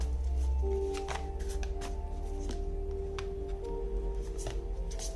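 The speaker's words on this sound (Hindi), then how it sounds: "पहले कार्ड निकाल लेती हूँ" Tarot cards are shuffled and drawn from a deck in a series of sharp, irregular riffling snaps and slides close by, over a steady low background hum, with no voices.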